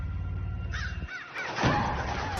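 Crows cawing in a forest horror film, a few harsh caws heard alone, the last one louder and closer, following a low rumble.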